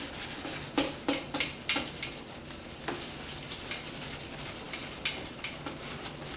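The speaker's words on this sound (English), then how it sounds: "just scuff it up so I don't forget" A Ford Flex plastic bumper cover is scuffed by hand-sanding, giving close, raspy rubbing strokes in short bursts, quicker at first and then softer and steadier, with no talking.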